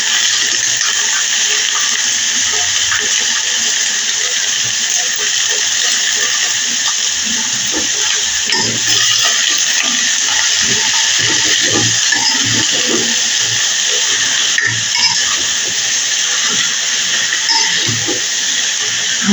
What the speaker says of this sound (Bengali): ভেজে নিচ্ছি সিদ্ধ না করে।